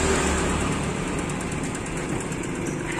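A motorcycle engine with a leaking valve runs steadily, a continuous buzzing drone with a faint rhythmic pulse, close and loud throughout without clear revs.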